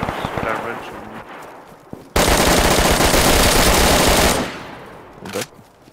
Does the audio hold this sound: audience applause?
no